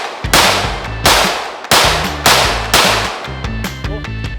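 Pistol fitted with a Lone Wolf Arms Alphawolf LR01C slide fires six sharp, loud shots at a steady, unhurried pace, each crack ringing briefly outdoors with no talking between them.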